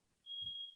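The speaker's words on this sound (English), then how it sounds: "Sorry, I got a smoke alarm going." A household smoke alarm gives a single short, steady high-pitched beep, fairly faint and set back in the room.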